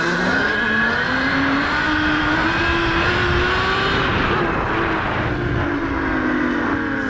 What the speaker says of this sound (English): All you can hear is the tires